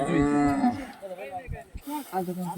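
A bull lows loudly and close by, a deep drawn-out moo with harmonic tones, followed by shorter grunting calls.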